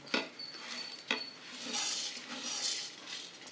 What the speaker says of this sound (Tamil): எல்லாம் இப்போ நான் வறுக்கிறேன்